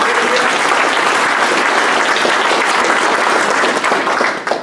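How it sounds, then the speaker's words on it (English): A hackathon audience gives sustained, dense applause for the winners at an evening event, loud and steady throughout before tapering slightly at the end. "let's give a round of applause to all of our winners tonight."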